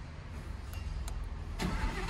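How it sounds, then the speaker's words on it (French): An Audi R8 V10 engine of 670 hp cranks and catches near the end, a burst of revving sound rising over a low idle-like hum. "Et le bolide est démarré."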